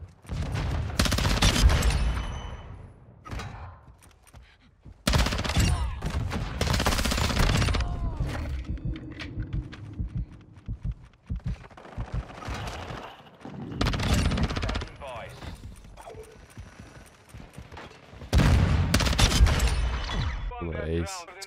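MP7 submachine gun fire in a video game: several loud, rapid automatic bursts lasting a second or two each, separated by quieter gaps filled with game sounds and some talking.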